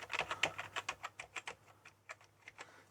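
Faint typing on a faulty ZX Spectrum with a cracked keyboard membrane, a quick irregular run of soft key taps that thins out toward the end, heard alone.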